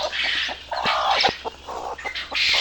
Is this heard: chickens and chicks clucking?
yes